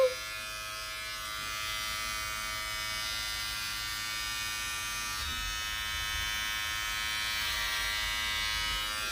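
Electric hair clippers with a 1/8 inch guard buzz steadily and close up while cutting hair, a continuous high motor whine with slight changes in pitch as the blades move through the hair.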